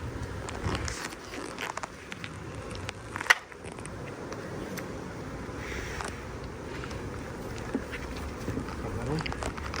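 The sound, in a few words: bees buzzing around a beehive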